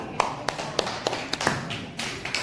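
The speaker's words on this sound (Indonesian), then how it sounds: "Oke, tepuk tangan." Children in a classroom clapping their hands after a group presentation, a sparse scattering of separate claps at an uneven rhythm, fairly quiet and close, with no one talking over them.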